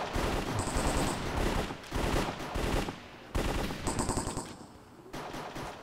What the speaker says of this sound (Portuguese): quem tá tomando tudo esse tiro?